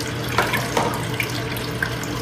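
Water streams steadily into a blue bowl gold concentrator used to recover fine gold from black sands, a continuous close splashing rush with small gurgles and drips.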